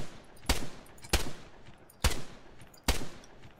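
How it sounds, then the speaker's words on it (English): Four sharp gunshots from the Arma 3 video game crack out at roughly even intervals, loud and close, each followed by a short decaying echo, with no talking. "Ah, that took way too many shots."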